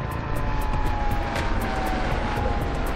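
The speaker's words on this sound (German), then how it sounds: "Wir müssen uns beeilen, der Hubschrauber kommt." A helicopter approaches in a Super-8 amateur film, its engine a steady loud drone with a rhythmic rotor chop pulsing throughout.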